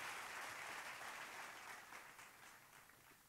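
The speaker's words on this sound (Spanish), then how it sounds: "dale fuerte el aplauso al Rey de Reyes en esta mañana" Steady applause from a church congregation, a dense wash of clapping that holds for a few seconds and fades slightly toward the end.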